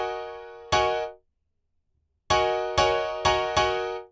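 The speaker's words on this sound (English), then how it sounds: "Xenology's Grand Piano" Xenology's Grand Piano sample layered over a simple step-sequencer melody, clean sustained piano notes: one struck chord that decays, a pause of silence, then four evenly spaced repeated hits.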